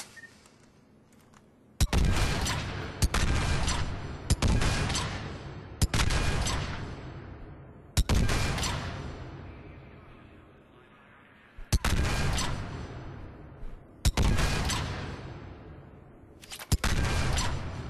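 Saber rifle in Mass Effect 3 fired again and again as fast as its heavy recoil allows, eight booming shots with ringing decays about two seconds apart, loud and alone.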